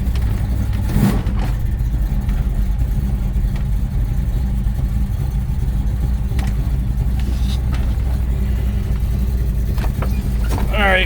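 A 1970 Plymouth Duster engine, warmed up after a couple of minutes of running, idles steadily with a low, continuous rumble throughout, with a few faint knocks and brief noises over it.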